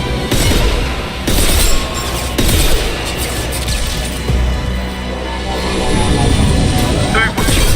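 A gunship in the Mass Effect video game roars loudly and steadily as a heavy engine drone, with repeated booming bursts layered over the continuous rumble.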